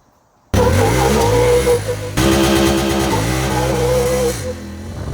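A Honda Talon UTV, fitted with over $20,000 in aftermarket parts, launches hard in launch mode: the engine roars up from near silence, holds a loud, steady note, shifts, and revs again close by before easing off.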